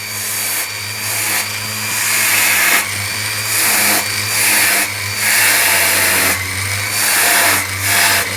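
Steady whine of a polishing motor running a buff over a silver claw setting, loud and continuous with a low hum, its pitch and loudness dipping and swelling as the piece is pressed against and lifted from the wheel.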